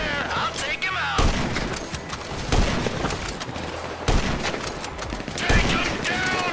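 Sniper rifle shots ring out in a GTA 5 firefight, several sharp reports scattered through a continuous din of gunfire and action noise, with voices talking over it.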